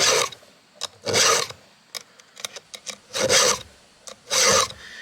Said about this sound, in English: It's faster to sharpen your chain than it is to change it.